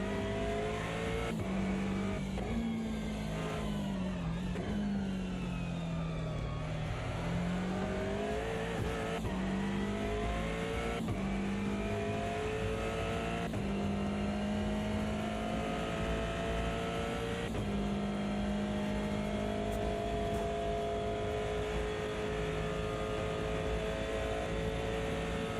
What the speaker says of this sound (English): Hitting the rev limiter now.